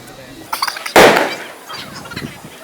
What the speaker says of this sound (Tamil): இப்போ வந்து அம்மா வந்து 1000 வாலா வைக்க போகிறாங்க.